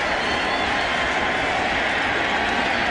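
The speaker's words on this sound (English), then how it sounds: "this St. Louis crowd is getting loud" A St. Louis baseball crowd at the 1996 NLCS Game 3 against Atlanta roars loudly and continuously in the sixth inning, a dense unbroken wall of noise with no break.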